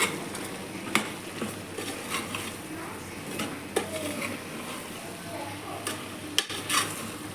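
A spoon scrapes and clinks against a pot while vegetable sambar with sambar powder is stirred, giving irregular close knocks and scrapes over a soft sizzle, with no talk.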